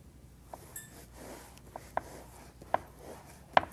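A serrated knife sawing through a baked cake layer to remove the dome, quiet rasping strokes punctuated by four or five sharp clicks of the blade against a board, close and faint.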